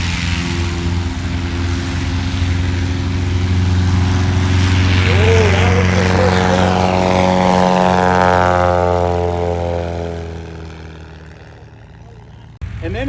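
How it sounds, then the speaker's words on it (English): Badlands Traveler propeller airplane flying a STOL demonstration at Sun n Fun, its engine droning loud and steady with the pitch sweeping as it passes close, then fading; a voice talks faintly underneath. "This is the Badlands Traveler. Beautiful airplane."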